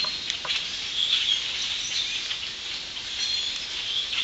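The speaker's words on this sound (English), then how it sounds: "These are just your standard blackbird." A large flock of common blackbirds calls at a distance, a dense continuous high chatter with no single voice standing out.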